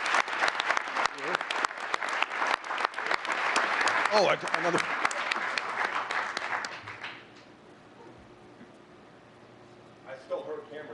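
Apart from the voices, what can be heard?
audience applause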